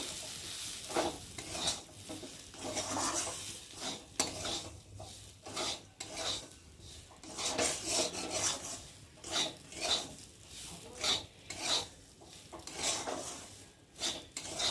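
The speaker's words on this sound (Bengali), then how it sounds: "আমি এখন ভেজে রাখা এই সুজিটাকে দিয়ে ভালো করে একটু ভেজে নেব। আবার একটু ভালো করে নেড়ে ছেড়ে নেব।" Semolina roasting in a pan for a spicy suji dish, stirred with repeated rhythmic rasping scrapes of a spoon across the pan bottom, steady and close over a soft background hiss.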